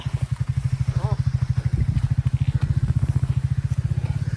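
A motorcycle is hauled up out of a water crossing, its engine thudding in a fast, steady, loud pulse at close range while people talk nearby.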